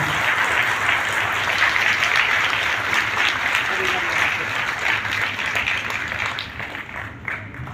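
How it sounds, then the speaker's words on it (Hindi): Audience at a centenary ceremony giving sustained, loud applause, a thick wash of clapping with a voice over a PA in the background, tapering slightly toward the end. "और तालियां हम सब की जोरदार तालियां"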